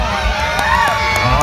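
Crowd cheering and shouting at an Alaska pig race, a steady roar of voices with whoops and children's yells rising and falling, loud and close.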